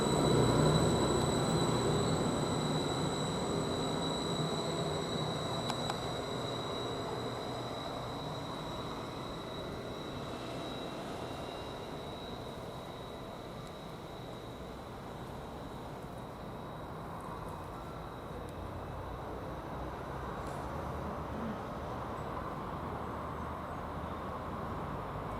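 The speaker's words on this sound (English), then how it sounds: "this Greater Anglia train, which is the 1441 service from Felix towards Ipswich," A Greater Anglia passenger train, the service from Felixstowe toward Ipswich, pulls away from Derby Road station with a broad rumble that slowly fades as it leaves, accompanied by a faint high whine.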